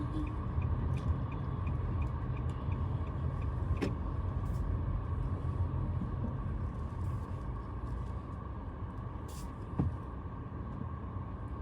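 Car idling and creeping into a parking space outside a pharmacy, a steady low engine rumble filling the background throughout with a couple of faint brief clicks, no voices heard.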